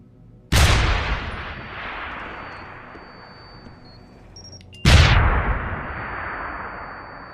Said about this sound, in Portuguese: Só houve alta explosão.